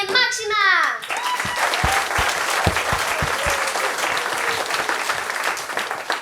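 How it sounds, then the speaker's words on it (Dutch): A brief voice speaks, then a large audience at a primary school musical breaks into sustained, dense applause with scattered louder claps. "Het applaus klinkt al heel aardig op"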